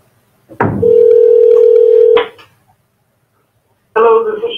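A telephone handset gives a steady, continuous dial tone for about a second and a half, which cuts off. After a pause, a burst of dialing tones follows. The sound is close and clear, and no one talks over it.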